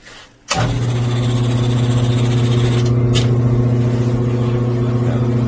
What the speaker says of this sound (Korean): 자, 그리고 에어펌프 소리 한번 들려드릴게요.